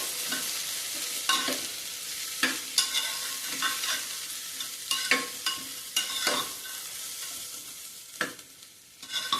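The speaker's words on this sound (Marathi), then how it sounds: "आता हे छान परतून घ्यायचंय" Sprouted moth beans and peanuts sauté in a pan with a soft, continuous sizzle, broken by repeated stirring scrapes in an uneven rhythm, close and fairly quiet, with no voices.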